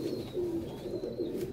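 Pigeons coo in repeated soft, low rolling phrases close by, a steady run of calls with a faint higher whistle above them and no talking.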